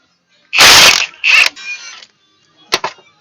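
Air impact wrench on the back side of the front hub of a 2003 Chevrolet Silverado, removing hub assembly bolts during a loose wheel bearing repair: two loud rattling bursts of about half a second, a short whir, then two quick sharp hits.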